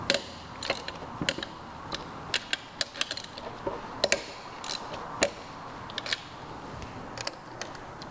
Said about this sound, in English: I'm gonna use a hand tool to break those free